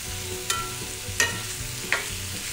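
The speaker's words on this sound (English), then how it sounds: "I see some nice searing going on there." Cajun butter garlic steak bites searing in a hot pan, a soft steady sizzle broken by three sharp clacks of a utensil against the pan, close and without speech.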